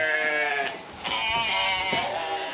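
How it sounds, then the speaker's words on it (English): Sheep bleating inside a barn at night, several overlapping loud, wavering bleats close by with barely a pause between them. "At night, the sheep are locked inside the barn."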